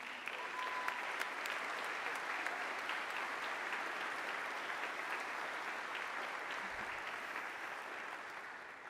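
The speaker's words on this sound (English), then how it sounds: "would you please give a round of applause to the best faculty and staff in the country?" Steady, dense applause from a large audience at a high school graduation commencement, sustained for the full stretch at even volume, honoring faculty and staff.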